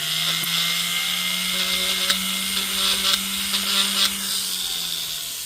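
A handheld rotary tool with a silicone polishing wheel whines steadily while smoothing the inside of a ring, a close, high-pitched constant hum with slight pitch dips and brief touches as pressure changes.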